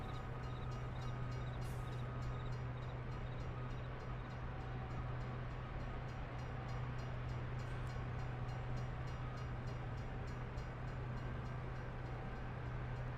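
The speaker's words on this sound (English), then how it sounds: "This is not my stop, train." A train in the video game No Man's Sky rumbles along steadily with a constant low hum and rolling noise, moderately loud and unbroken, with no talking.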